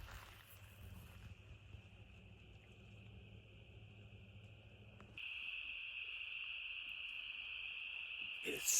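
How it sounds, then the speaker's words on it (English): Frogs call loudly at night outdoors during a hog hunt, forming a dense, shrill, unbroken drone that grows louder partway through, with faint rustling underneath. "Them frogs is loud tonight."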